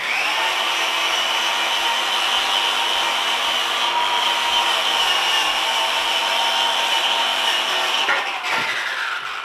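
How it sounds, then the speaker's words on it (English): A wire brush spun on a DeWalt power drill scrubs dust off the outside of a horse's hoof, a loud, steady high whir with a scratchy rasp that runs unbroken for about eight seconds before easing off near the end. "What I've been doing lately is using this wire brush on my DeWalt."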